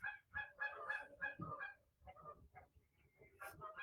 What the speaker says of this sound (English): Can y'all hear the geese in the background?